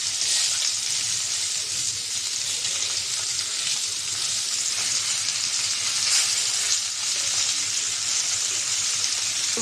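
Koi fish frying in hot oil after a turmeric and chili powder rub, a loud, steady sizzle and hiss that runs unbroken, with no talk.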